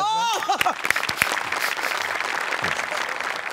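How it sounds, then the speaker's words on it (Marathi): Applause breaks out from a studio audience at a Marathi comedy sketch show, a steady dense patter of clapping that follows a brief shouted voice at the start and holds on without pause. "एकदा जोरदार टाळ्या"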